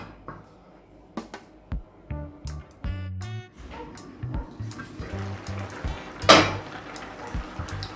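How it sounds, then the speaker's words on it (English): A metal lid clanks and rattles onto a cooking pot in a kitchen, with a series of close knocks and scrapes over several seconds before the lid settles. "So I am going to cover the pot and allow the seasoning to cook."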